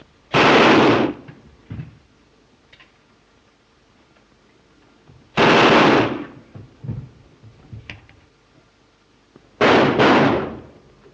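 Three loud, sharp gunshots from a 1930 slapstick comedy film, spaced several seconds apart, each with a brief echoing tail, separated by faint clicks and quiet background noise.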